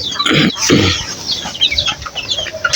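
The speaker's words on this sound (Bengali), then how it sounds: "এখানে ভিতরে দেখতে পাচ্ছেন যে মুরগি আছে, দেশি মুরগি।" Desi chickens in a farm shed housing around two hundred birds, clucking in short bursts and calls, fairly close, with other hens cackling faintly behind.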